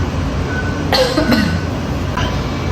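A short cough, then a fainter second one, close to the microphone over a steady low background hum.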